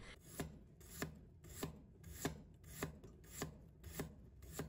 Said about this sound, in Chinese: 再准备1块去了皮的生姜，切成薄片。